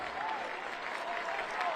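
A high school football stadium crowd applauds an injured player, a steady broad roar of clapping and cheering from the stands, sustained and even across the moment.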